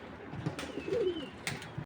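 Black checker racing pigeons coo softly in a low, rolling murmur, with a few faint rustles and clicks around the birds nearby.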